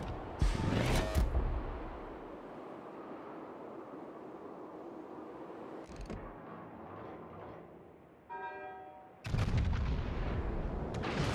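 Naval ship guns firing in World of Warships, with a Yamato battleship alongside Al. Nevsky and Des Moines cruisers: a loud booming salvo at the start, then sporadic distant blasts and a closing heavy volley over a low rumble.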